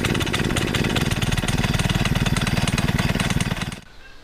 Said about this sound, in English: you're ready to fire it up